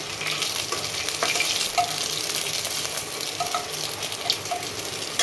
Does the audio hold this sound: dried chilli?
yes